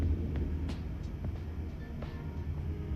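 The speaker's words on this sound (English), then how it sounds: "it sounds like you're standing right next to the subway" A subway train rumbles past nearby with a steady low roar, and faint clacks and squeals rise over it throughout.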